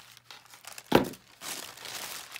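Paper for a scrapbook page crinkles and rustles as it is handled and cut, with one sharp crisp snip or tear standing out near the middle, then softer shuffling close by.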